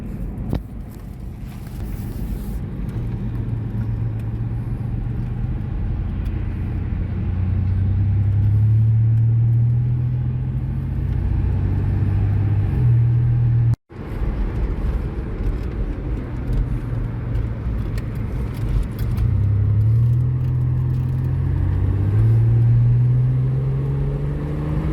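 A small truck rumbles steadily from inside the cab while driving on the road, engine drone rising and falling with gear changes, with a brief cutout midway.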